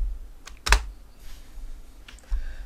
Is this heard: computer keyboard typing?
yes